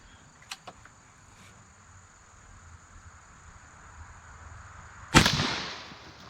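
An Airforce Texan .457 air rifle fires a single sharp shot at a pumpkin, a loud crack with a brief ringing tail standing out against quiet outdoor insect chirping.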